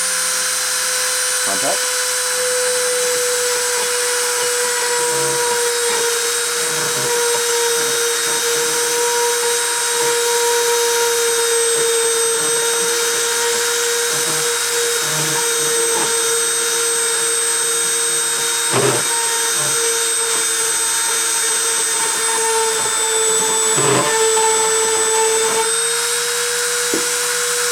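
A machine spindle spinning at 30,000 RPM during a deposition run gives a loud, steady high-pitched whine with constant tonal lines, broken by brief clicks and bumps. A single short spoken word occurs.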